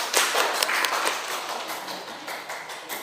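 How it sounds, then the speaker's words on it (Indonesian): A classroom group gives a short burst of clapping for a student presentation group, close and uneven, fading over a few seconds. "Tepuk tangan buat kelompok 1"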